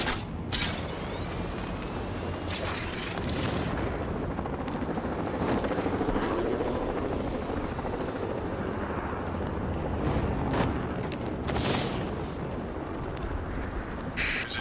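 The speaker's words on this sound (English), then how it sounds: "Serpent drone!" A Serpent drone attacks in the Batman Arkham Knight video game, making a loud, sustained mechanical whirring and grinding roar with ratcheting creaks and sharp bursts throughout, heard alone without voices.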